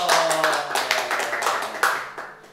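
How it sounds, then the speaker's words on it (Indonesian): At a Sunday school service, children clap their hands in a brief, uneven burst that starts loud and close, then thins out and fades after a couple of seconds. "Tepuk tangan dong."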